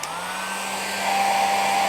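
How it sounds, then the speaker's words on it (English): A hair dryer powered by a DJI Power 2000 portable power station blows with a steady whirring hum, its motor pitch rising slightly as it comes up to speed, close and loud. "you can power up that hairdryer, still charging"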